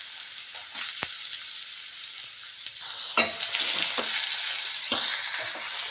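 Three medium chopped onions fry in hot oil, a bright, continuous sizzle with sharp clinks and scrapes as a spoon stirs the pan, and no one speaking.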